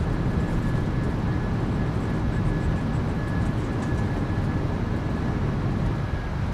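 PMDG 737-800 rolling out on the runway after landing with reversers deployed, in MSFS2024, a continuous broad engine and roll roar with a faint steady tone, no talk.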